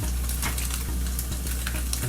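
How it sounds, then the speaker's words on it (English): Browned tofu frying in a pan, a steady close sizzle with crackling hiss and occasional stirring scrapes, no voices. "My tofu is this nice brown color and it's sizzling."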